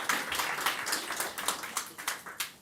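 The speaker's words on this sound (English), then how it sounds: "let's give him a round of applause" Short burst of audience applause at a book readers' awards ceremony, moderately quiet and thinning out after a couple of seconds, with scattered individual claps and a faint voice mixed in.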